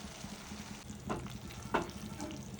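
Goat liver curry with pepper is stirred in a frying pan, giving a low steady sizzle with two or three brief scraping strokes of the spoon, fairly faint and close.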